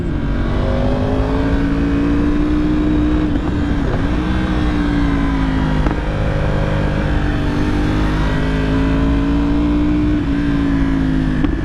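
A 2015 Yamaha R1 sport motorcycle is ridden, its engine droning loud and steady throughout with the pitch rising and dipping as it speeds up and eases off, up close and without talk.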